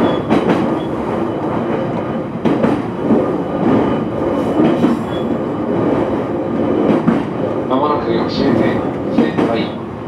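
Commuter train on the Joban Line arriving at Sendai station, a steady loud rumble of wheels and carriage noise with clicks and a brief high squeal near the end, under an onboard announcement voice.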